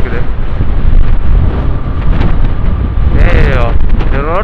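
Strong wind buffeting a motorbike rider on Trichy Road between Somanur and Sulur near Coimbatore, a loud, constant rumbling roar across the microphone, with a passing vehicle horn-like tone near the end.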